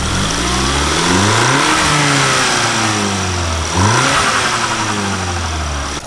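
Audi S3, Golf R or Cupra MQB TSI engine fitted with a GFB DV+ blow-off valve, revving up and down repeatedly with rising and falling engine tones, loud and close, with only subtle release sounds.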